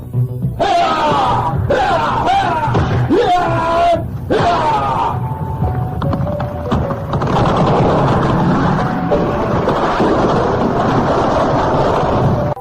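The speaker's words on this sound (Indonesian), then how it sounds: "Jaka Badak berlari ke pelataran sambil berteriak lantang dan membabatkan pedang pada sebuah pohon besar" A man yells loudly and at length while a sword is slashed against a large tree in a radio drama, with harsh, strained shouting and scraping, clattering effects running continuously throughout.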